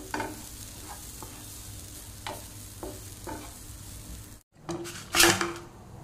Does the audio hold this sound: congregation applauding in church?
no